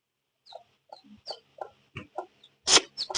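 Hen clucking close by in a series of short, separate clucks, ending with one louder squawk, and no talking.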